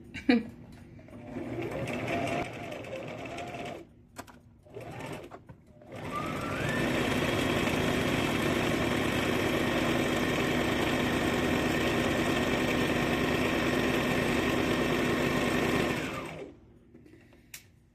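A home sewing machine stitches fabric for a pair of pants, starting with short bursts and then running in a long, steady rapid whir for about ten seconds, with someone talking quietly before it runs.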